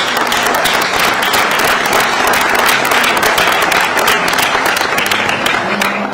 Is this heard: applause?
yes